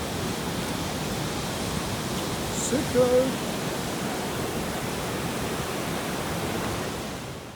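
Steady rushing roar of a waterfall on the Bolaven Plateau in Laos, a broad constant wash of falling water filling the scene, with a brief faint voice surfacing partway through.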